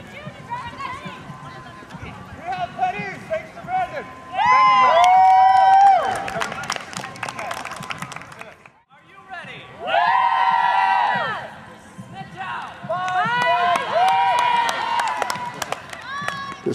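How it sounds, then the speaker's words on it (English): Large crowd gathered around a college Quidditch match at St Olaf, with steady murmur, shouts and cheering swelling in loud bursts, mixed with close voices talking over the din. "we have a large crowd getting ready to watch this Quidditch match"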